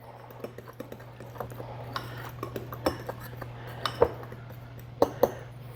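Flour, baking powder and kosher salt are mixed together in a bowl for a lemon loaf cake, giving a run of light scraping clinks and taps against the bowl, steady and close, over a low background hum.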